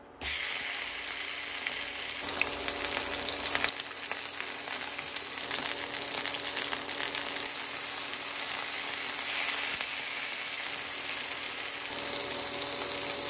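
Sausage made from a sashimi party tray sizzles steadily in a frying pan, a loud, continuous crackling fry holding close and even for the whole stretch.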